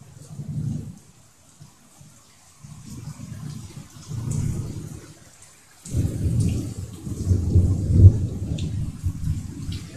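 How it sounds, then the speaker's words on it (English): A thunderstorm in Fort Worth, Texas: deep rolling thunder rumbles rise and fade repeatedly over a steady soft hiss of rain, with the loudest crashes coming in the second half. "I love thunder."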